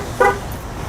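Short electronic beep from a car being locked, a single brief tonal chirp heard nearby over low outdoor background noise.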